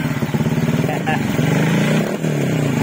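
A motorcycle engine, a Raider J115 Fi fitted with a dual ignition coil, runs at close range with a steady, pulsing idle and a slight rev, while people talk over it.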